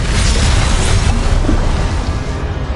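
Confringo fire spell blast in Hogwarts Legacy: a loud, dense booming eruption of fiery noise that fills the whole moment, rumbling heavily and easing only slightly toward the end.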